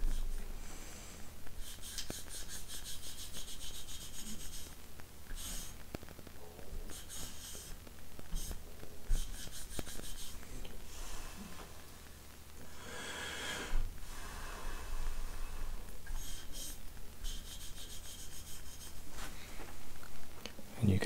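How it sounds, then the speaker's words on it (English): Cloth wiping excess polish off a gun's recessed lettering, giving soft, close rubbing strokes that come in uneven bursts over a low background hum. "Starting to clean off all that excess polish."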